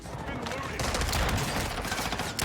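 A Lochman AR assault rifle in Call of Duty Warzone fires a dense, continuous burst of rapid, close shots, loud and unbroken for a couple of seconds.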